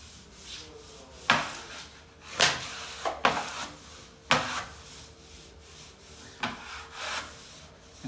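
Blade scraping and rubbing along a double-cut wallpaper seam on a wall, in a series of short, separate strokes with quiet gaps between them, near and moderately loud.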